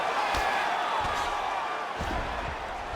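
Arena crowd in EA Sports UFC 5 roaring steadily after a grappling exchange, a dense, continuous wash of cheering with a few sharp thumps, heard without commentary over it.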